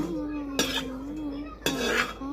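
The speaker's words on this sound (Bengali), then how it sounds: "তা আমরা কড়াইটা ভিজাচ্ছি ভালো করে তেল দিয়ে।" A metal spatula stirs and scrapes a wok being coated with oil, giving two sharp scraping clatters over a steady low hum, close and fairly loud.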